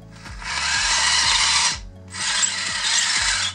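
Electric motors of an RC model tracked vehicle with a track mixer controller, whining loudly in two long bursts separated by a brief pause, with small clicking ticks underneath.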